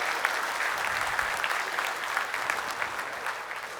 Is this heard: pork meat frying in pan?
no